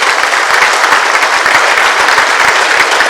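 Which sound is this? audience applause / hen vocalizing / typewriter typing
audience applause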